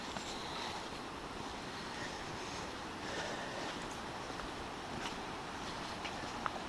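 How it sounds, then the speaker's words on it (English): A waterfall seen on a wet hike rushes as a steady broadband roar, continuous and fairly distant, with no voices. "Waterfalls. Look at this. I don't know if you can hear it."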